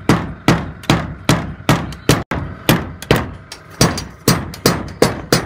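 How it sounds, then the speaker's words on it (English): A screw is hammered into a board by hand on a bricklaying job, about a dozen loud, close metallic hammer strikes in a steady, regular rhythm with no talk. "Hammer the screw in. Who needs a drill, eh?"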